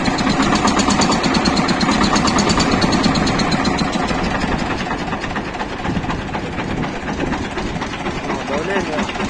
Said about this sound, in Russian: двигатель все не прогретый. Поэтому он так и будет.